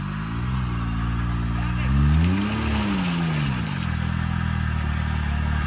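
Off-road vehicle on a mountain trail during a rally outing, engine revving up and falling back once in a loud sustained drone while people talk over it.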